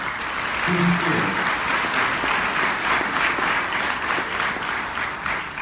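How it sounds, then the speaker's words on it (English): Audience at a writers' conference in Vegas giving steady applause, a dense patter of many hands clapping at moderate loudness, continuing evenly with a brief voice or two audible early on. "So let's get a little bit of applause for Dan."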